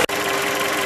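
Volkswagen Polo engine running steadily just after being started, a continuous mechanical hum with a brief dip at the very start, close and alone.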